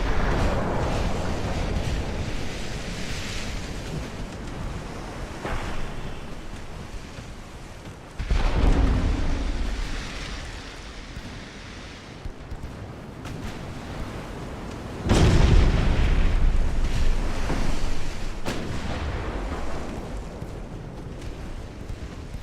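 Naval artillery fire in the video game Ultimate Admiral: Dreadnoughts, set in 1890: two heavy, booming gun blasts several seconds apart over a constant rushing wash of ocean waves and wind.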